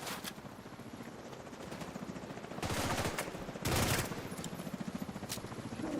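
Rapid automatic gunfire in The Division 2, a steady rattling stream with two louder bursts in the middle, heard alone without talk.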